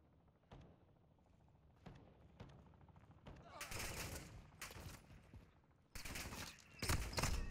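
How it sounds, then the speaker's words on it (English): A single player's gunfire in the DMZ video game crackles in sharp bursts, scattered early and then heavier, louder volleys toward the end. "I only hear one person shooting"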